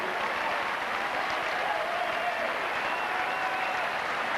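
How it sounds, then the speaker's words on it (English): A tennis crowd at an Edberg versus Henman match breaks into sustained applause, a broad, even wash of clapping heard from a distance that holds steady throughout. "The crowd suddenly roused again here because they sense that Edberg has a chance"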